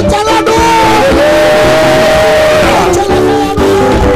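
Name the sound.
congregation cheering and acclaiming the Lord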